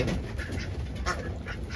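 A flock of farm ducks quacks in scattered bursts over steady low rumble, the calls overlapping and fairly close.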